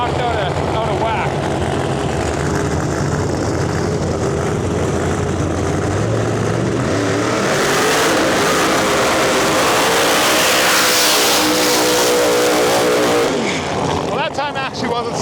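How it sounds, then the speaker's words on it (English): Supercharged screw-blower funny cars at a drag race, engines rumbling steadily before a huge howling roar erupts as they launch and scream past up close, then fade, with a voice talking early on. "So 2 more funny cars coming at us."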